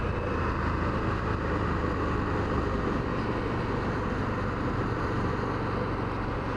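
An Indian FTR1200 motorcycle cruises through city streets with a continuous, dense engine and road roar, broad and steady with no pauses, heavily mixed with wind rush.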